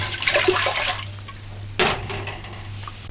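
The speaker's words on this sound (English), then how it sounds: "Add the water." Two cups of water splash into a pot for mixed bean soup with clinking of metal, a brief pour followed by a second burst of splashing, close and fairly loud.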